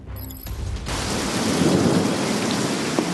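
Heavy unseasonal downpour in Pune roars as a loud, dense wash of rain with rumbling thunder underneath, continuous and close, with no voices.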